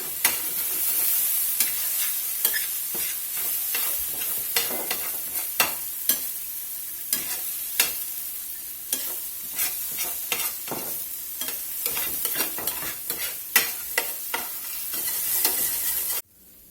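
Corn roasting over an open cooking fire sizzles and crackles steadily, with frequent sharp pops and snaps close by and no voices, before cutting off abruptly near the end.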